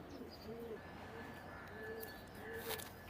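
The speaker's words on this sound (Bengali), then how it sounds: "এটা সরাসরি ওস্তাদের ঘরের থেকে ইনপোর্ট হয়ে আসা চাপড়া কবুতার" A pair of imported Chapra pigeons cooing softly, with several short low coos spread across a few seconds against a steady background hiss and faint chirps.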